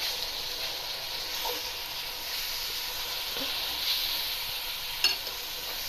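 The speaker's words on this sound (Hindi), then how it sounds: "अब मैं इसमें ना कीमा डालती हूँ। ठीक है, ये देखो, और इसको हल्का सा फ्राई करेंगे।" Minced meat (keema) fries in a pan for aloo keema matar, a faint, steady sizzle with a few soft stirring clicks and scrapes.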